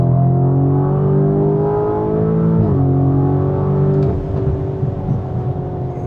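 Lamborghini Urus SE with 800 horsepower pulls hard from a rolling start in Corsa mode, its engine note climbing steadily and loud through the rev range, with a brief dip at a gear change, then it keeps rising.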